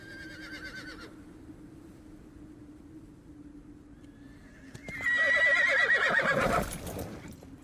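Terrified horses scream and whinny in a tabletop-game sound effect: a long shrill neigh rises, then a loud burst of panicked whinnying and rumbling hooves swells near the end over a steady low drone.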